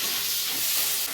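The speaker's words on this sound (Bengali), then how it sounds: "আর আছে পেঁয়াজ দিয়ে দিব তেলে" Onion hits hot oil with cumin and sizzles loudly, a bright, dense hiss close by that fills the brief moment without any talk.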